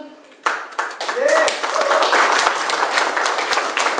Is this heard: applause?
yes